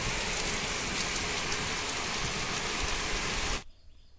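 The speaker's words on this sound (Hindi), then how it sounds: "बहुत भयानक सा बारिश शुरू हो जाता है यहाँ पे" Heavy rain pours down steadily in a loud, dense hiss, then cuts off abruptly near the end, leaving near silence.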